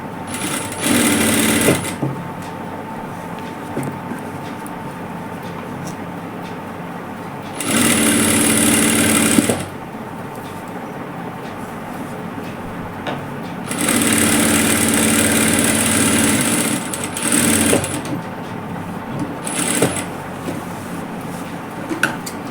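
An electric sewing machine runs in several loud, steady bursts of rapid whirring stitches as fabric is sewn inside out, with quiet pauses between runs.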